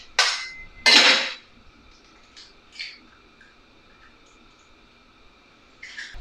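Two sharp clinks from an egg being cracked on a pan's edge before frying for a full English fry-up breakfast pizza, followed by a few faint taps over a quiet hiss.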